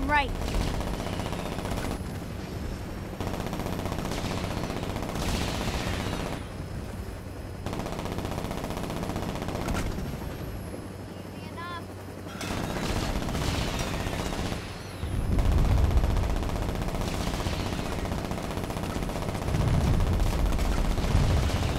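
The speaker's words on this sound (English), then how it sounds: "Look at them trying to shoot their little RPGs at me." Gunfire and RPG blasts in Saints Row, a long spell of heavy automatic fire and booming explosions that comes in waves and drops off in short lulls.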